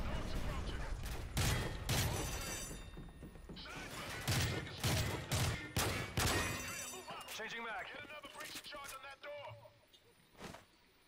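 Gunfire in Call of Duty Modern Warfare 3 Spec Ops: a rapid string of loud, sharp shots in irregular bursts, fading out toward the end with one last shot, while a voice talks over it.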